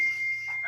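A mobile phone gives a single steady electronic tone, held clear and fairly loud in a quiet room, with a faint low hum underneath and a brief softer chime at the end.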